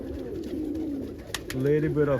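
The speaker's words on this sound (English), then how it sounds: "Can stand over here and watch these birds all day long" Pigeons coo in low, throaty calls, one trailing off and another starting near the end, with a couple of sharp clicks in between.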